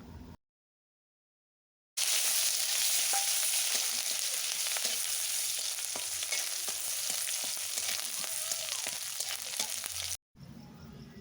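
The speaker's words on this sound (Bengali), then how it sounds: "পেঁয়াজ কুচি ভালোভাবে নাড়াচাড়া করে ভেজে নেব।" Chopped onion frying in oil with bay leaf and panch phoron makes a dense, loud, continuous sizzle with scattered crackles and light stirring scrapes. It runs about eight seconds between short silent gaps, with no speech.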